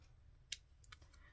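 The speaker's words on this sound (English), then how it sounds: "I'm just using a bit of snipping here" Scissors snip paper for a handmade Christmas card, a few faint, brief, crisp cuts close by in a quiet room.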